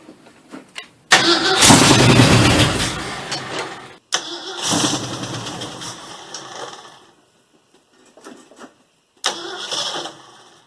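A 1965 Ford F100 engine cold-starting after nine years of sitting, fed two-stroke fuel from a bowl, cranks briefly then catches into loud, rough running for a few seconds, cuts out, restarts, sputters and dies, then fires again near the end.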